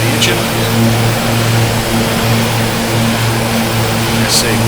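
A propeller aircraft engine drones steadily and loudly in the Prepar3D flight simulator, a constant low hum that continues without letup.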